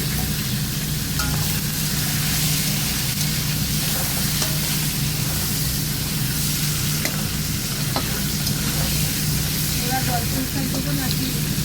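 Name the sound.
fish heads frying in hot oil with turmeric and salt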